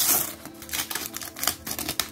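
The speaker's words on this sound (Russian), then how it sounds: "Откроем еще пакетик." Crinkling and tearing of a Panini Paw Patrol Mighty Pups sticker packet, a run of close, dry rustles and rips lasting a couple of seconds with no talk.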